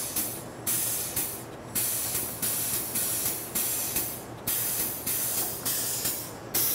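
A grease gun pumps grease into a semi-truck grease nipple, giving a steady series of about ten hissing, spraying strokes in an even rhythm, close and fairly loud, with no talk over them.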